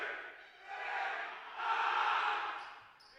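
Student section in a high school boys basketball gym, Absegami at Seneca, yelling and cheering during a free throw, a sustained crowd roar in two swelling waves, moderately loud and somewhat distant.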